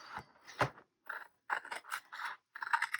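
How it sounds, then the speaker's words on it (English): Scissors trim the floppy ends off a cardboard paper pie box, a series of short crisp snips and scraping cuts in uneven bursts, close and clear with no talking. "I'm just trimming up the pie"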